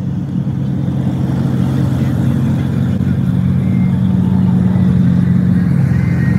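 A rally car at the start of the goldRush Rally near Sunset and Highway 1 sets off, its engine droning steadily and loud from close inside with a low, even rumble and no talk.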